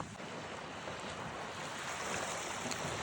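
Ocean surf breaking on a shore at night: a steady, loud wash of waves with wind buffeting the microphone, no voices.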